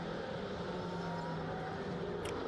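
Vintage race cars including Lolas and a Martini-liveried Porsche 917 pulling away at a rolling start at the Estoril circuit, a continuous distant engine drone with a steady broad roar.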